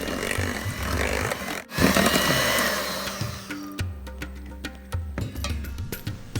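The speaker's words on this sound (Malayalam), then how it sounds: "ഇനി ലോ സ്പീഡിൽ ജസ്റ്റ് ഒന്ന് ബീറ്റ് ചെയ്ത് ബീറ്റർ മാറ്റി വെക്കാം." Electric hand beater whirring at low speed as it mixes cupcake batter, a steady buzzy motor drone close by with brief dips and changes in pitch as the beaters move through the bowl.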